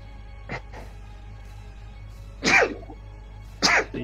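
Two sharp sneezes burst out during a tabletop dice game, loud and close, set against a quiet room with a faint snort-like sound earlier.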